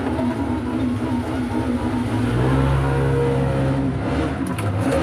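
A loud, steady motorcycle engine drone that swells and revs up midway, outdoors while eel fishing, with no voices.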